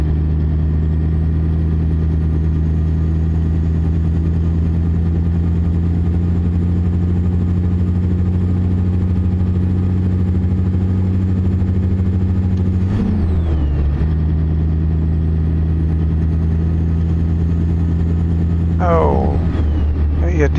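A truck with a 3408 engine drives along, producing a loud, steady, deep drone heard from inside the cab. The engine pitch drops and recovers twice, like gear changes, partway through.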